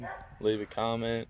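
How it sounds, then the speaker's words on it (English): A dog barks twice in quick bursts nearby while someone talks over the top of it, his voice mixing with the yapping. "Sorry about the dog."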